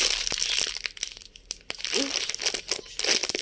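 A Barik ketchup cracker package being torn open, with loud crinkling and rustling of plastic wrapper and repeated sharp crackles close up, broken by a brief quieter pause.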